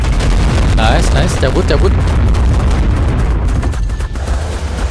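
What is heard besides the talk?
gunfire shooting at a boss in the video game Ark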